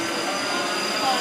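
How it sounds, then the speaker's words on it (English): A Class 458 electric train, unit 458531, departs Clapham Junction station with a steady, close rumble and hiss of motor and wheels that swells slightly as it pulls away. "458531 departing, and that will be the final train of this video."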